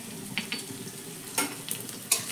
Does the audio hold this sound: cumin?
yes